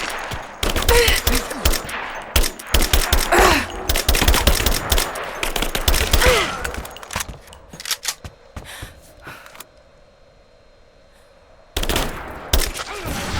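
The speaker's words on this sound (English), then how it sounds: "Taking fire! Focusing fire!" Rapid automatic gunfire in the Rise of the Tomb Raider video game, loud dense bursts with scattered shots, a short quiet gap, then firing resumes; faint voices mixed in.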